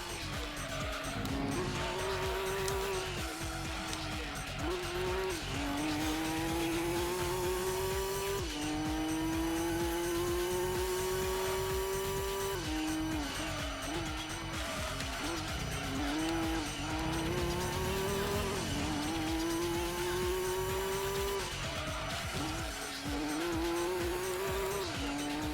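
Nissan Skyline race car in Gran Turismo 2, engine droning loud and steady as revs climb and drop through gear changes, with tire squeal and skidding through corners and no talk.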